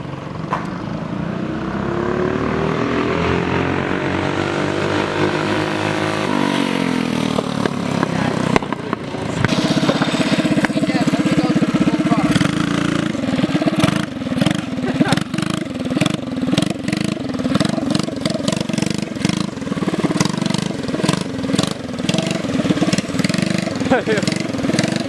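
A minibike engine revs hard as the small bike makes a flyby, its note rising and then shifting as it passes close and carries on buzzing loudly, with people talking over it.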